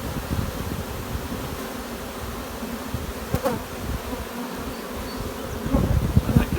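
Honeybees in an open hive give a dense, steady buzz close by, with light rustles and a few brief knocks from the hive frames. No one speaks.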